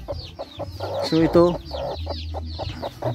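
Rhode Island-type native chickens clucking repeatedly up close in a rural backyard coop, short rhythmic calls with a couple of louder squawks, while someone talks over them.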